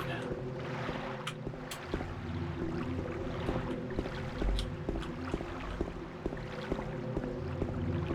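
Steady low engine drone of a boat cruising over water in the video game Silent Hill 2, with a continuous churning rumble and occasional soft knocks throughout.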